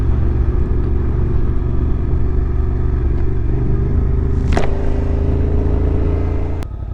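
A Suzuki V-Strom 800 motorcycle rides along, its engine a loud, steady low rumble close by, with a brief sharp whoosh midway and a sudden click near the end.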